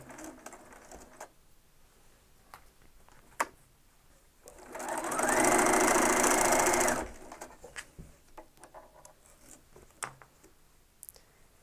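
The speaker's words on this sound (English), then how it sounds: "Now we want to stitch the other side." A sewing machine stitches a quilt seam for a square-in-a-square block in one loud, steady run of about two seconds, between quiet handling clicks and rustles.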